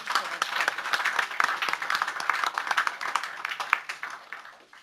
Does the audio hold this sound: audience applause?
yes